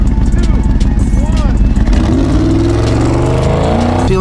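A Dodge Charger R/T with a new exhaust rumbles loudly at close range, its engine note rising into a sustained rev, with a deep, steady drone and cabin noise throughout.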